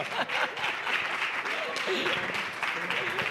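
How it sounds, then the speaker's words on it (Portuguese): A crowd at a launch event applauds steadily, dense clapping under overlapping voices and cheering throughout. "Aplauso gigante."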